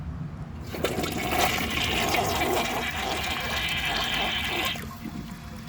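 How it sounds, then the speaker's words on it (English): A 2009 Gerber Avalanche toilet with a clogged siphon jet flushes in one short rush of water lasting about four seconds, then cuts off abruptly into a faint trickle, close up with no talk. "Now let's see how it flushes with a clogged siphon jet."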